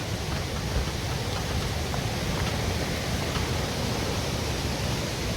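Fierce mountain stream rushing through a Himalayan valley, a steady loud broadband roar of churning water filling the whole stretch without pause.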